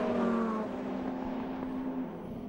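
Mitjet 2-litre race cars racing at the Dijon circuit, a steady engine whine with a sustained droning tone at a moderate distance, fading slightly toward the end, with no voices.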